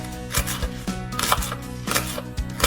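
A knife slices a vegetable into thin pieces for homemade dumplings in miso soup: several close, crisp cuts come at an uneven rhythm, with no talking.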